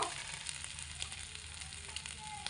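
Chopped ginger fries in hot oil with a soft, steady sizzle and faint occasional stirring touches, fairly quiet and close, no voices.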